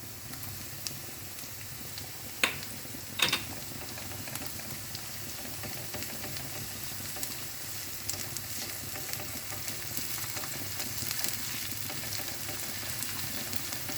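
Crushed ginger and garlic with a large onion sauté in a pan as a steady, quiet frying hiss, broken by two sharp utensil taps early on and light stirring clatter later.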